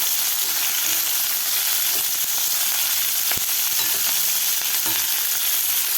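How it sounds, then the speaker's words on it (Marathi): Val bean pods sizzling and frying in a pan with garlic, a steady loud crackle with occasional sharper pops and faint stirring, close throughout. "आता यामध्ये घालायच्यात आपल्याला वालाच्या शेंगा मला शेंगा व्यवस्थित परतून घ्यायचं आहे"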